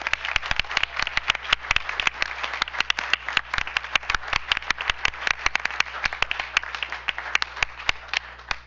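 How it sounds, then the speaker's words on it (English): Audience at a school district board business meeting applauding, a dense steady round of many hands clapping throughout, close and lively, with a low hum beneath and no speech over it. "Let's give them a round of applause."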